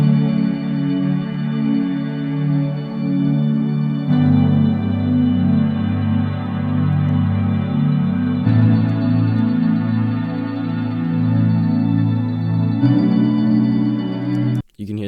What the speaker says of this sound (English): You can hear this pad is a bit softer and a bit more metallic as well.